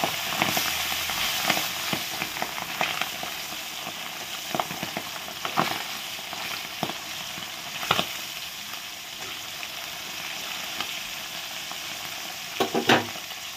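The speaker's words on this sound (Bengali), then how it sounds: "মাছ ভাজা হয়ে গেছে, এখন তুলে নিয়েছি" Pabda fish fry in hot oil in a pan, giving a steady, fairly quiet sizzle with frequent soft crackles and pops throughout, and a few louder spits near the end; no one speaks.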